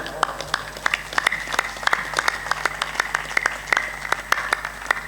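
A small gathering at a religious discourse claps in a slow, steady rhythm, each distinct clap ringing out close and fairly loud, with faint background murmur underneath.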